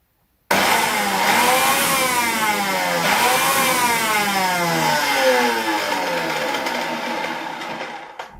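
A Preethi Zodiac mixer grinder's big motor starts abruptly and runs loudly for about eight seconds, a harsh whining roar with shifting, wavering pitch, then tapers off as it winds down.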